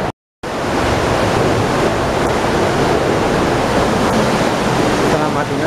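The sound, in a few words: waterfall on a river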